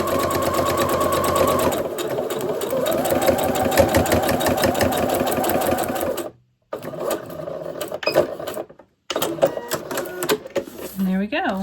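A sewing machine stitches a foundation paper-pieced block and turns chunkier as it runs over bulky seams: a fast mechanical chatter that stops in two brief pauses, close up, with someone talking over it.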